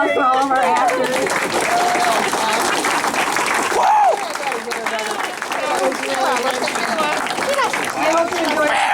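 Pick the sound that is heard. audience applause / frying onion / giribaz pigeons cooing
audience applause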